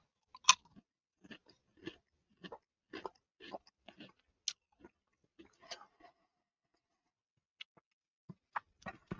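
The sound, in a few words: chewing crunchy Goldfish Mega Cheddar Jalapeno crackers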